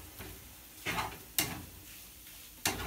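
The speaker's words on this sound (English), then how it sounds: "Now get everything stirred in here really, really good." Food stirred and sizzling in a pan, a steady frying hiss with four sharp scraping strokes of the spoon at irregular intervals, close and fairly loud, with no voices.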